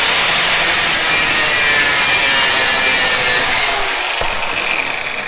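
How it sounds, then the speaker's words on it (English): An angle grinder cuts through the metal gusset inside a Ford Fusion door, giving a loud, continuous high-pitched grinding scream that eases slightly near the end. "We're not really going to get in here too well with the grinder."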